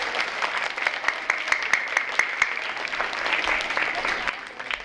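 A school audience at a Veteran's Day celebration claps for poster contest winners, with steady, dense applause holding for several seconds before tapering off.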